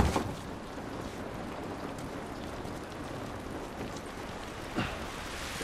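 Steady, soft rain patters continuously in the quarantine zone of The Last of Us Remastered, with a couple of faint sharper taps standing out against the even hiss.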